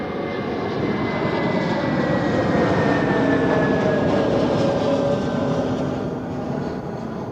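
An airliner with a striped livery landing at Zurich Airport, a loud, sustained jet engine roar with a slowly falling whine that swells and then eases as the aircraft passes nearby.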